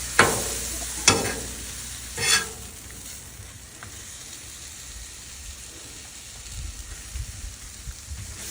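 Smash burgers, buffalo blue cheese and mushroom Swiss, sizzle on a Blackstone griddle. A few sharp metal spatula scrapes open, then a steady close sizzle hisses on with no talk.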